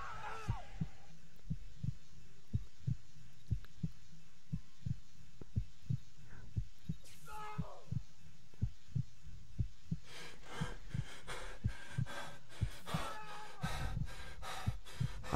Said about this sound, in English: I shouldn't be hearing the heartbeat.